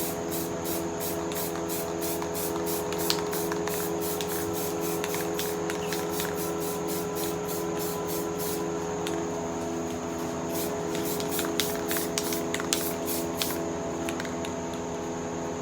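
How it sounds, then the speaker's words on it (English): A spray paint can hisses in long, steady bursts for spray paint art, a continuous close airy spray with faint rubbing and clicks, no talk. "and just kind of spray paint"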